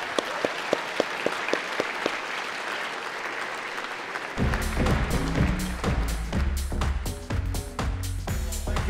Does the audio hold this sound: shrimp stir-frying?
no